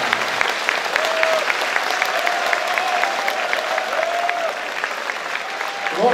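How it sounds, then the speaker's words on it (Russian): A theatre audience in the hall applauds steadily, a thick, even roar of many hands clapping that carries on throughout, with a faint held tone drifting under the noise. "вам аплодируем, зрительный зал"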